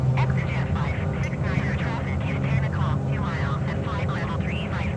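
A flight-simulator aircraft engine hums steadily under continuous talk, holding a constant low drone throughout with a faint tonal whine as power comes up.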